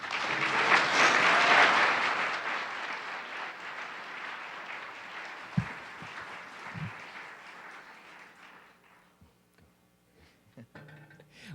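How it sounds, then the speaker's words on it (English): Audience applause at a Martin Luther King Jr. commemoration event honoring student essay writers, a loud burst of clapping that gradually fades and thins to scattered claps, with a few brief thumps near the end. "How about another round of applause for these talented essay writers?"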